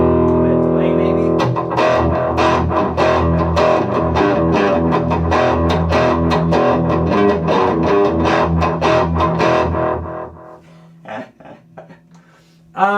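An electric guitar played through a Boss ME-90 delay effect, notes repeating and trailing off, with a distorted tone, ending in sparse plucks and near silence.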